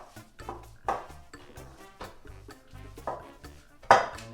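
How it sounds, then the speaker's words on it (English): Chorizo meat mixed with jalapeño seeds and cumin in a bowl gives a series of irregular clinks and soft knocks as the bowl and utensil are worked, close and fairly quiet with short gaps. "we're just going to mix all this up in here, the seeds and the cumin and our meat"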